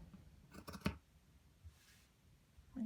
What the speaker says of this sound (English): we're just going to cut that out. So cut across there.